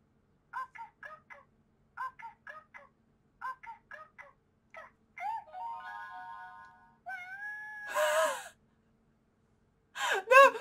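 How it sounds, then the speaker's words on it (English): A Healing Pretty Cure talking plush of Latte plays an electronic drinking sound effect: repeated groups of short chirpy beeps, then rising and falling synthetic tones, ending in two bursts of hissy noise, all clear and close. "That was the sound of drinking."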